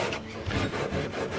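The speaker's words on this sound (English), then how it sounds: "I'm going to sand that in so it blends in." Sandpaper rubs over a filled spot on a boat hull in quick back-and-forth strokes, a close, continuous raspy scratching.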